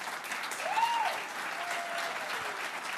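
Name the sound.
audience applause at awards event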